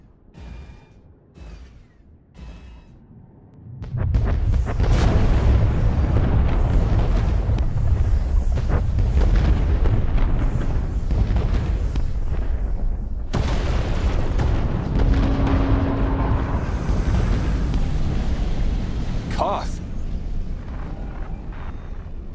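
Heavy warship bombardment explodes in the Star Wars: The Old Republic video game, a sustained roaring barrage of booms and rumbling blasts after a few quieter seconds, loud and continuous with scattered sharper cracks.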